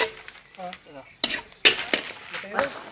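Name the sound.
ginger being sautéed in a pan for fish porridge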